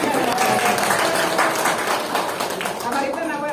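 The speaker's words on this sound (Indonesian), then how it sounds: "tepuk tangan untuk Cidahu." Audience at a Muslim women's assembly in Sukabumi applauds for Cidahu, producing continuous, fairly loud clapping in a hall, with voices mixed in.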